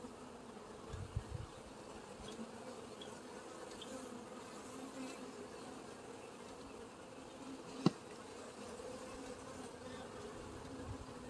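Honeybees hum in a constant, fairly quiet drone during a hive inspection, with a few soft knocks and one sharp click from handling the frames.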